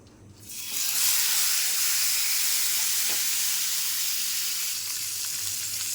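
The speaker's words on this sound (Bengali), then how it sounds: "আর এখানে আমি ফ্রাই প্যান দিয়ে দিয়েছি, ফ্রাই প্যান গরম হয়ে গেছে। আর মাছটা ভাজা দিয়ে দেবো।" Fish sizzling loudly in a hot frying pan, the hiss swelling in within the first second and then holding steady and close for the rest of the clip, with no voices.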